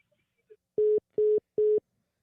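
Three identical steady electronic tones, evenly spaced and clean, sounding after a phone call ends over a Bluetooth connection; loud and close, with silence between beeps and no talk.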